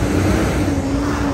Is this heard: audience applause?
no